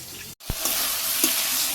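Vegetables sautéing in a pan give off a steady close sizzle that briefly cuts out near the start and then resumes, with a few soft stirring knocks over it.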